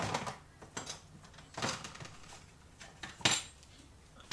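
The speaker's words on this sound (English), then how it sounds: "I'll just get my spatula." A metal spatula picked up at a pour-painting table, with a few faint clinks and light rattles of metal against hard surfaces and short pauses between them.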